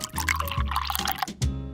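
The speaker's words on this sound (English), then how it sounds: "I'll pour some water here" Water poured into a bowl while making miniature food, a steady splashing, gurgling pour lasting under two seconds with a brief pause near the end, close and fairly loud with no one talking.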